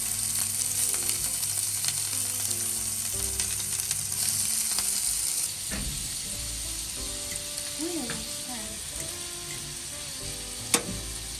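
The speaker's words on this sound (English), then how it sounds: "The oil is hot, so I'm gonna put it in. And remember, I don't want it to fry too much because this is pre-cooked shrimp." Pre-cooked shrimp fry in hot oil with a bright, steady close sizzle, broken by clinks and stirring scrapes of a utensil against the pan, with music faint underneath.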